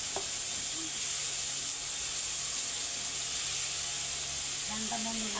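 Bitter gourd pieces sizzle in hot mustard oil with five-spice tempering, a steady broadband hiss filling the whole clip at moderate loudness, with faint clatter near the end.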